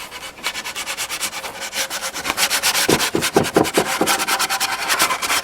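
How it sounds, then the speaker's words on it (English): Sandpaper rubbed by hand along the edges of a rustic wooden American flag shaped like the USA, giving steady scratchy strokes that speed into a quicker back-and-forth rhythm midway, close and fairly loud with no talk. "I'm going to take a piece of sandpaper, and we're just going to soften up the edge a little bit"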